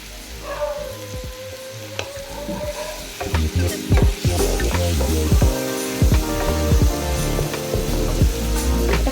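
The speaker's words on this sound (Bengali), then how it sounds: "খুব বেশি ভাজবো না হালকা একটু জলটা শুকিয়ে আসবে তখন এটা নামিয়ে দেবো" Food frying in a pan in a home kitchen, lightly fried until the water cooks off, a steady close sizzle with scraping stir strokes and clatters growing busier and louder after the first few seconds.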